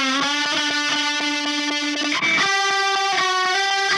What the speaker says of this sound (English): Add a tremolo.